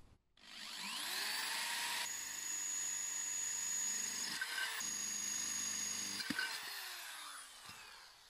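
A power drill with a masonry bit bores drainage holes in terracotta, a continuous whining grind lasting several seconds with brief pitch shifts and pauses, then winding down at the end; no voices.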